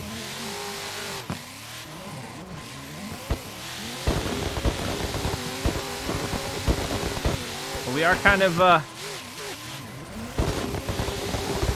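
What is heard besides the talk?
race car engine revving in a racing simulator game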